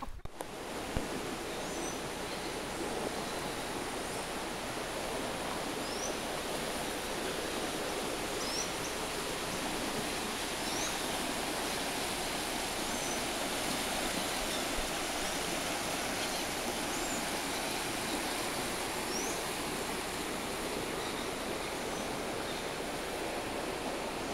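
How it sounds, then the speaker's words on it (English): A jungle waterfall, a steady broadband rush of falling water heard at close range and unchanging throughout, with faint bird chirps now and then above it. "He took us on a hike through the jungle to this waterfall."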